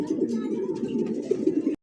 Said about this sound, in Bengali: হ্যাঁ এটা হচ্ছে নর কবুতর আর এটা হলো মাদি, সম্পূর্ণ রানিং মাস্টার পেয়ার ভাই।